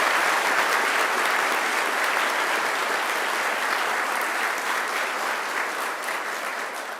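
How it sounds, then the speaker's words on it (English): A graduation ceremony audience at Macquarie University gives a sustained round of applause, dense and even throughout, tapering slightly toward the end with no talk over it. "let us all give a big round of applause for the Macquarie Mooters"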